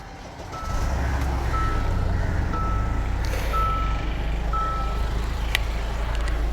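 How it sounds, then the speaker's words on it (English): A Hyundai Santa Fe with a 2.2L diesel engine starts up, and a low idle rumble settles in and holds steady, heard from inside the cabin. A repeated high electronic beep sounds over it at regular intervals. "Let me turn on the car."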